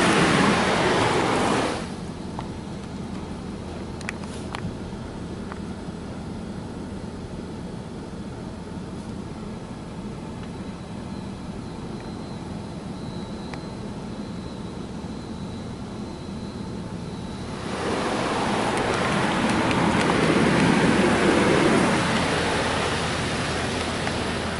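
Water sprays hard during the rinse cycle of a Ryko Ultrasonic 2001 automatic car wash at an Exxon station, a loud steady hiss that eases to a softer wash for a while before surging again.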